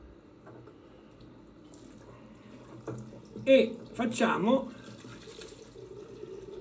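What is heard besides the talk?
water running from a tap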